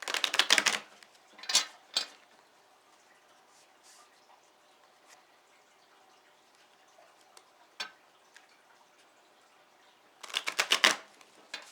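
A new, stiff tarot deck being shuffled: a riffling burst, a couple of sharp card snaps, a long quiet stretch with a faint tap, then another close riffle shuffle.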